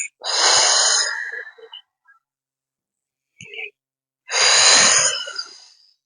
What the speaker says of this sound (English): Breathe in as you come down.